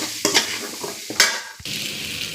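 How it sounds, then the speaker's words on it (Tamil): A spoon scrapes around a pan in a few strokes while gooseberries sizzle steadily in frying oil underneath, close by, for pickle. "நெல்லிக்காய் கொட்டி கிண்டிட்டேன்"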